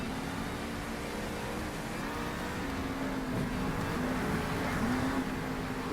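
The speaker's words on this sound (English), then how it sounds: "It's gonna be a waypoint race between El Toro Loco and 5 other monster trucks." Monster truck engines droning and revving during a desert waypoint race in Monster Jam Steel Titans 2, a steady mid-level roar with rising and falling pitch, no talking.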